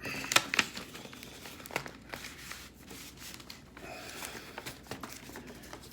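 Paper cutouts of stars, trees and party hats slid into a cheap paper envelope, giving close, soft crinkling and rustling with a few sharper crackles throughout.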